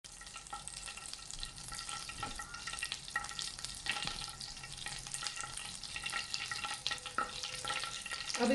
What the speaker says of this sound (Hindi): थोड़ा सा मैंने 1 टेबल स्पून ऑयल लिया है और साथ 2 टेबल स्पून मैंने बटर के ऐड किए हैं। वो मेल्ट हो रहा है।